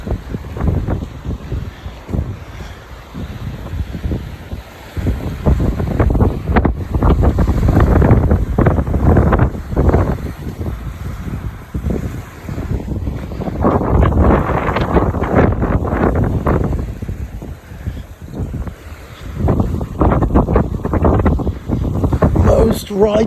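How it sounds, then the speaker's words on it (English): Ocean surf and gusting wind roar in surging waves with heavy microphone buffeting, loud and close, rising and falling over the whole stretch. "you listening to beautiful sound of the ocean. The ocean and"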